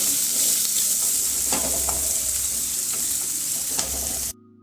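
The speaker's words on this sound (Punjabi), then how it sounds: "ਪਿਆਜ਼ਾਂ ਨੂੰ ਪਾ ਦਵਾਂਗੇ ਆਪਾਂ ਇਹਨਾਂ ਨੂੰ ਵੀ ਆਪਾਂ ਤੜਕੇ ਦੇ ਵਿੱਚ ਭੁੰਨ ਕੇ ਤਿਆਰ ਕਰ ਲਵਾਂਗੇ" Chopped onions sizzle and fry steadily in hot tempering oil, with occasional stirring, loud and continuous with no talk before the sound cuts off at the end.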